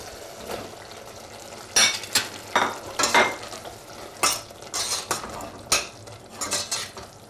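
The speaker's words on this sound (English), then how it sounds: "Mix it in well and let it simmer for a while." A spoon stirs cubed aubergine into a simmering soy mince curry in a pan. Irregular scraping and clinking strokes sound close by over a soft background sizzle, with no talking.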